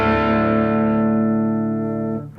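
A loud, sustained distorted electric guitar chord from a song rings out with dense harmonics, slowly fading before cutting off abruptly.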